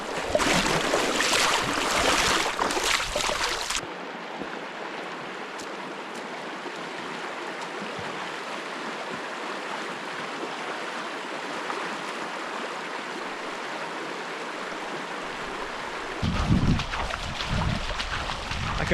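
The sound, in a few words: wading through a cold stream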